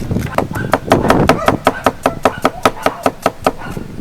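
A knife chops shallots on a chopping block on a Filipino farm, with rapid rhythmic thwacks that settle into a steady even beat of about four strikes per second, close and loud.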